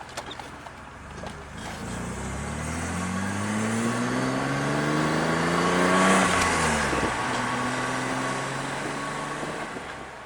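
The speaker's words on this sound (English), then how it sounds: "Car's not lumpy at idle anymore. It just kind of sits there smooth." Engine of an old BMW bought for $1,000 runs close by, its hum climbing steadily in pitch and loudness over several seconds, then dropping back and settling, with no talk.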